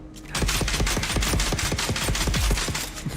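Rapid gunfire in the video game Dune Awakening, a dense run of around a dozen sharp loud shots fired in quick succession for about three seconds.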